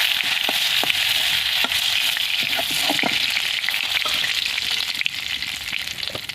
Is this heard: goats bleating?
no